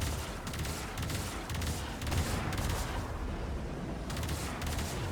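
Sustained video game gunfire in Warframe as shots pound an enemy shield, dense rapid bursts with booming impacts that carry on loudly and steadily throughout.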